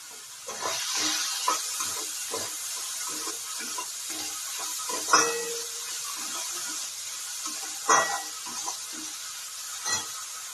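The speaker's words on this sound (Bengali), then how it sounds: "পেঁয়াজটা খুব ভালো করে ভাজা ভাজাটা হয়ে যাক" Steady hissing sizzle from a pan with scattered crackles and a few louder pops and clinks, no voices.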